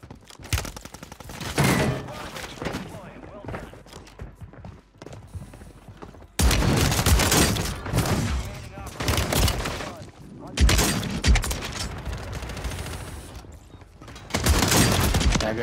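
Rapid bursts of gunfire in the video game Warzone 3 come loud and close in repeated volleys separated by short lulls, with mechanical clatter and occasional voices mixed in.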